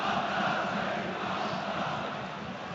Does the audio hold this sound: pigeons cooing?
no